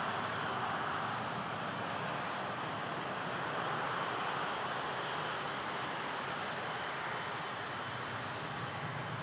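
An airplane's engines roar steadily on a runway at Toronto Pearson airport (YYZ), a loud, continuous broadband rumble that holds nearly level throughout, with no talking.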